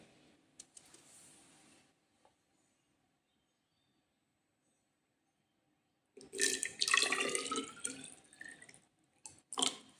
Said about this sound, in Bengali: তো দেখো এর মধ্যে আমরা জল নিয়ে নিলাম।